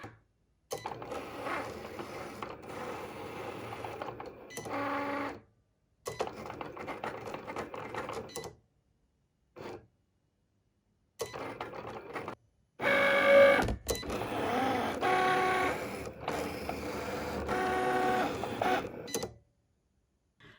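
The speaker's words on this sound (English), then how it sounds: "So I just finished testing out the Cricut. It came with it came with like a piece of cardstock" A Cricut cutting machine works through a sheet of cardstock with mechanical whirring and buzzing in several bursts, broken by short silent gaps and ending in a longer, louder run.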